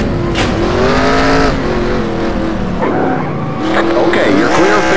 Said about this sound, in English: We got a wreck in the tri-oval